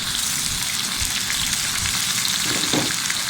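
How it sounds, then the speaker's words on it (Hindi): Garlic ginger paste fries in a pan with onions that are already browned, for a haleem. A dense, steady crackling sizzle sounds close and loud throughout, like light rain on a surface. "तो लहसुन अदरक का पेस्ट भुन चुका है"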